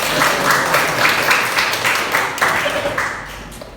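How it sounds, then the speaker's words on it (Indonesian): Classroom full of students clapping together in sustained applause, dense and steady throughout with a few softer voices mixed in. "Baik, tepuk tangan kita semua."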